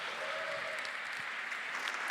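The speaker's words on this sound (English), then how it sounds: "give a big round of applause for Visualize" An audience at an evening product innovation gala applauds, a dense, steady wash of clapping hands throughout, loud and continuous.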